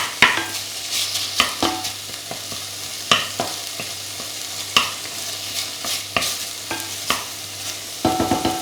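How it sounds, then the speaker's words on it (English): Minced bacon fries in a pan, a loud crackling sizzle punctuated by repeated sharp scrapes and knocks as it is tossed around, close and with no talking. "Okay, so just toss that around, fry it."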